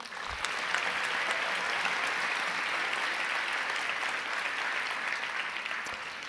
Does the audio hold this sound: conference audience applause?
yes